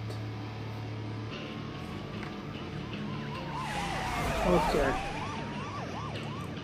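Police siren chasing in the racing game Need for Speed Most Wanted, a wailing tone that rises and falls with growing loudness over game engine noise, while someone briefly talks.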